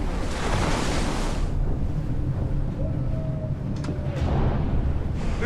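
Rough Bering Sea waves crashing and strong wind buffeting during a typhoon, loud rushing surges with heavy wind noise on the microphone, a crash of water early on then a continuous roar, no talking.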